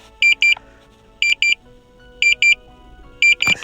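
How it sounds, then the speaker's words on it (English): Paired electronic warning beeps from a Potensic Atom SE drone at its flight height limit repeat at a steady one-second rhythm, sharp and high-pitched, with faint background noise and a brief rustle at the end. "seems there's no way to turn off this beeping."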